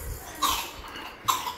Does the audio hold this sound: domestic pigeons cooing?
no